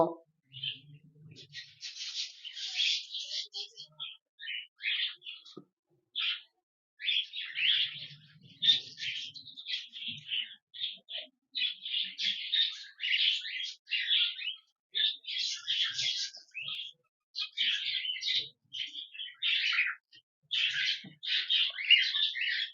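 Semi-adult cockatiel chicks chirp almost nonstop for over twenty seconds, a dense run of high, rapid calls and squawks that come in short overlapping bursts, close by and fairly loud.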